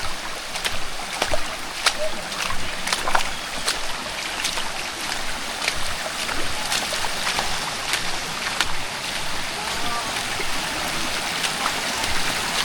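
Continuous rushing and splashing water with irregular sloshes and splatters as someone wades through a cold, clear shallow stream, close by and fairly loud.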